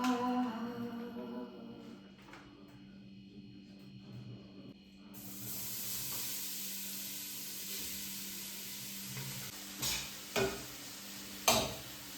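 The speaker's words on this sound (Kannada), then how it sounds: "ಈ ಥರ ಚೆನ್ನಾಗಿ ತುಪ್ಪ ಹಾಕ್ಕೊಂಡು ಫುಲ್ ಫ್ರೈ ಮಾಡಬೇಕು ಕ್ಯಾರೆಟ್ನ" Carrots frying in ghee in a pan for carrot halwa, a steady soft sizzle with stirring, and a few sharp scrapes or clinks near the end.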